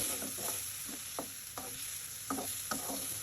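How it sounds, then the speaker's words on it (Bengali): Onion, garlic and ginger paste stir-fries in fish oil for a fish curry, a soft steady sizzle with repeated scrapes and taps of a spatula against the pan, close and fairly quiet. "পেঁয়াজ রসুন পেস্ট দিয়ে ভালোভাবে নেড়ে চেড়ে কষিয়ে নিচ্ছি।"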